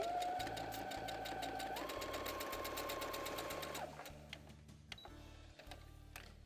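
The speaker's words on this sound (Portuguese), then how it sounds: "vou levar aqui agora já na máquina de costura" A sewing machine stitches a seam about 1 centimetre in from the edge of soft fabric for a small vaccination booklet, running steadily with a rapid rhythmic needle clatter and motor whine, then slowing and stopping into quieter clicks and handling.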